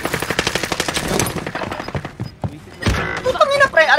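Gunfire in Call of Duty Warzone, including sniper shots, heard as a burst of rapid sharp reports followed by thuds and mechanical clatter, fairly close, with a voice speaking over part of it.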